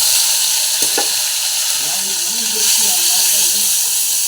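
Hand-ground spice paste, pounded on a grinding stone, fries in a pan of oil for a bottle gourd curry, giving a steady close hiss and sizzle with a couple of sharp clatters early on and faint murmuring beneath.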